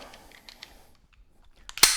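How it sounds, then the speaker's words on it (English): A pistol dry-fire malfunction drill with a dummy round: faint handling clicks and a soft trigger click, then a sharp tap and a loud quick rack of the slide at the end. "I come out, click, tap, rack, bang."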